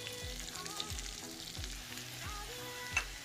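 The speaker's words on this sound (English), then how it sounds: "Put the ginger. Cook for a little bit." Ginger sizzles and fries in a hot pan, a steady crackling hiss with faint stirring scrapes throughout, fairly close and with no voices.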